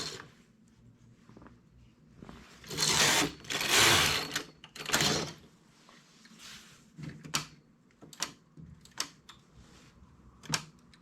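A knitting machine works thick wool, its carriage making several loud rasping sweeps followed by scattered clicks and clacks, close by with no talk.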